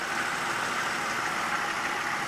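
A car engine idling after its push rods were replaced, a smooth, even, fairly quiet hum with no ticking, steady and close for the whole stretch.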